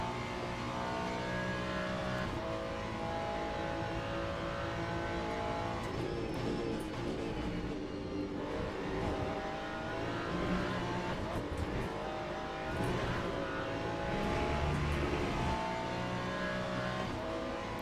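LMP2 prototype race cars in the Le Mans Ultimate sim race, engines revving and droning continuously at close range, with whooshing passes and a steady roar throughout; a voice talks faintly at times.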